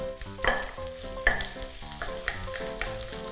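Egg and rice stir-fried together in a pan for Thai fried rice with chili paste and pork rinds: a continuous close sizzle broken by sharp scraping and tossing strokes, with no talking.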